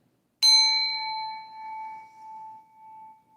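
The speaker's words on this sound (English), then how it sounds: "Let me ring my bell." A single small bell struck once, ringing out clear and bright with a long sustained tone that slowly fades, heard alone in a quiet room.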